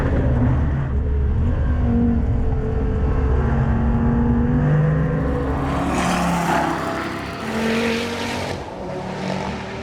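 A Dodge Viper drives on a race track, its engine droning loudly and shifting pitch as it revs and passes, with a roar swelling in the second half and the sound then easing, no talk.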